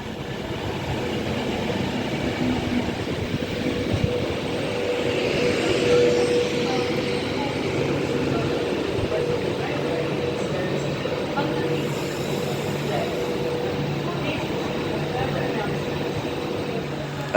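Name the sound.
Pendolino train City of Liverpool on West Coast Main Line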